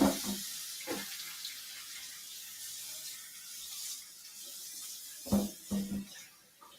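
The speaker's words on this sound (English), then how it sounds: "Okay, let me rinse this off." Something rinsed under a running tap in a kitchen: a soft, steady hiss of flowing water continues throughout, with a few louder clunks and knocks at the start and near the end.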